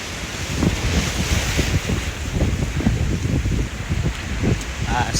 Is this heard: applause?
no